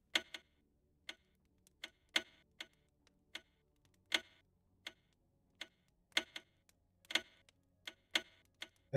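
Steady ticking of a pendulum clock in a video game, a crisp tick roughly every half second to second, fairly close and alone with no voices.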